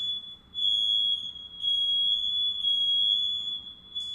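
A smoke detector being tested sounds a steady series of shrill, high-pitched beeps, close and loud, in a regular repeating rhythm.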